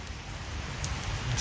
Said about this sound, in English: Wow, the rain's coming down heavy.